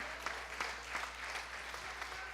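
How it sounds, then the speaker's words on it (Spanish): A church congregation at a Sunday service applauding, a steady patter of many hands clapping at moderate distance, fairly soft and continuous, with no voices over it. "Qué bueno los que aplauden"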